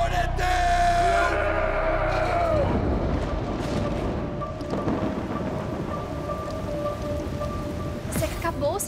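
A thunderstorm with steady, heavy rain pouring close by and deep thunder rolling underneath. A sustained tonal hum fades out in the first few seconds, and the downpour continues loud and unbroken.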